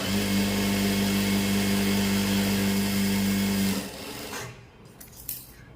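A sewing machine runs steadily while stitching piping on a kurti sleeve, a loud continuous motor whir with a strong hum that cuts off near the end, leaving faint handling clicks and quiet room sound.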